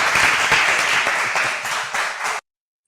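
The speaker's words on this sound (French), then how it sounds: "vous pouvez vous applaudir et soyez fiers" Children at an award ceremony clap together in a dense, steady burst of applause that stays loud for a little over two seconds, then cuts off abruptly into silence.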